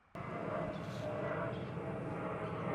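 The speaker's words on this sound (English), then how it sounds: "Plane." A steady, broad engine roar from an airplane passing overhead fills the moment after a sudden onset, holding at a constant distant level with no speech over it.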